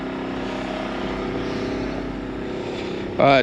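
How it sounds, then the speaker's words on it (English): A portable generator runs steadily beside a 2015 Palomino Canyon Cat 21FBC travel trailer, a constant droning engine hum with harmonic tones that holds level throughout, ending with a brief louder burst. "I'm just running to the portable generator for lights"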